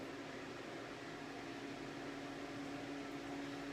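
A Modern Elements 1875-watt ionic stand hair dryer runs steadily, giving a constant airy whoosh with a faint motor hum beneath it, unbroken throughout and with no voices.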